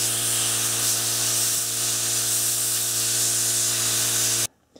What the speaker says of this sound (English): I'll start by drying it off with some compressed air.